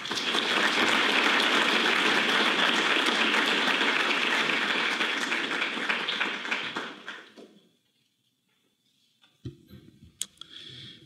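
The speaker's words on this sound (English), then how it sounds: "Please join me in giving a round warm of applause for Juan Enriquez" Audience applause welcoming a speaker at a lecture on synthetic biology, broad and sustained at first, then fading out into near silence, followed by a few faint sounds.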